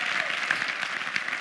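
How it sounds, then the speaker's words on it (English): A seminar audience gives a short burst of applause, dense clapping throughout with faint crowd murmur. "Give yourselves a round of applause for being here today"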